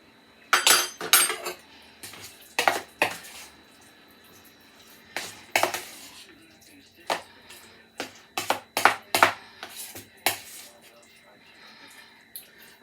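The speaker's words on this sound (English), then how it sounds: "I'll stir it again." A spoon stirs guacamole in a bowl, giving irregular bursts of clinking and scraping with short quiet gaps, close and fairly loud, with no voice over them.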